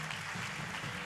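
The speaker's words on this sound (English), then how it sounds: "let's give Jesus a round of applause today" A church congregation applauds together after a closing prayer, a steady, dense wash of clapping that fills the whole short moment at moderate volume with no voices above it.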